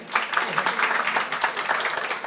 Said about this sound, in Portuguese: Palmas para o Mero do Povo, minha gente